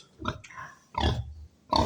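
A pig drinking from a water trough made from a barrel, short wet slurping and snuffling bursts up close, with pauses between gulps.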